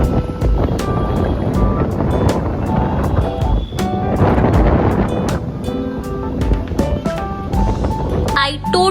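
Loud, gusty wind roars across the microphone at a metro station in rainy, cloudy weather, with a steady rumble and faint metallic tones in the background.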